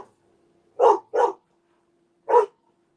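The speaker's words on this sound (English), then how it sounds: "Sorry about the dog, y'all." A dog barks three times indoors, loud and close. Two quick barks come close together, then a pause, then a single bark, over a quiet steady hum.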